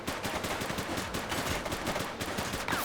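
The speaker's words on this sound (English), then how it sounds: "He's shooting!" Rapid gunfire bursts crackle continuously in The Precinct video game, a dense stream of overlapping shots with steady rhythm and no pause, loud and close throughout.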